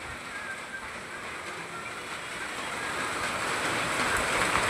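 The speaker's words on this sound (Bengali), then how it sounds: "খুব বৃষ্টি হচ্ছে, দেখো" Heavy monsoon rain in Bengaluru, a steady broadband hiss of downpour that grows slightly louder toward the end, continuous with no voices.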